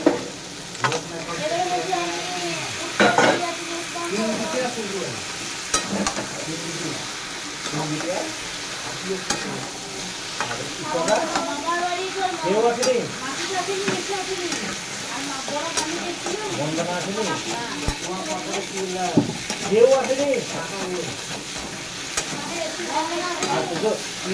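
Mixed vegetables frying with salt, turmeric and ground pepper in a pan, stirred with steady scraping and a continuous sizzle throughout, with occasional clatter of the utensil.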